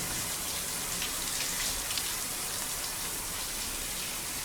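A cold shower runs in Death Stranding 2, giving a steady, even hiss of spraying water that holds constant without pause.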